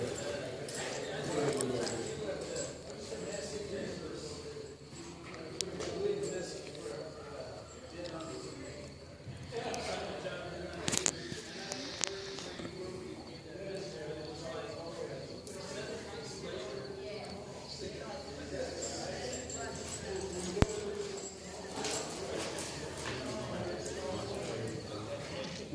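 Hooves of a ridden horse clip-clop in an irregular rhythm of faint to moderate thuds, with someone talking over them for most of the stretch.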